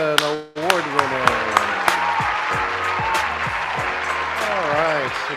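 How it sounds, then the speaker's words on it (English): Audience applause at a marketing summit, a room full of clapping that builds quickly after a short pause, with a voice speaking over it now and then. "Let's give a round of applause to Pradeep UN award winner"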